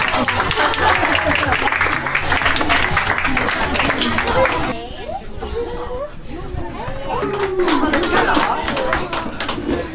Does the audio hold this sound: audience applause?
yes